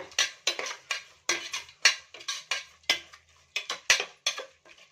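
A metal spoon stirs coriander and mint leaves into beetroot biryani in a pot, scraping and clinking against the pot in a steady rhythm of about ten quick strokes, close up and with no talk.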